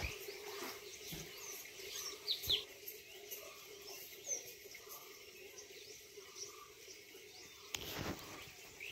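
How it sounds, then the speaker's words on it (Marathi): Birds chirp outdoors on a morning in a Konkan village: faint, scattered tweets at a distance over quiet open-air background, with no voices. "पक्ष्यांची किलबिल सुरू आहे"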